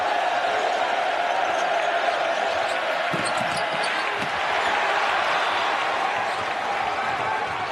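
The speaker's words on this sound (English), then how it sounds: "here comes this Baylor crowd here in Dallas" A Baylor basketball crowd roars in a Dallas arena during a game against Arkansas, a loud, sustained wash of cheering with a ball bouncing and a commentator talking over it.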